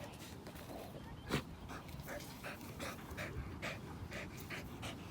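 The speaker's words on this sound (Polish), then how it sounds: "Możecie słyszeć psa w tle." A dog pants rapidly and rhythmically nearby, quick breathy huffs repeating throughout, with one sharper yip-like sound early on.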